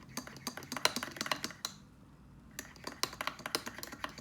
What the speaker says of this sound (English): Just give it a little extra stir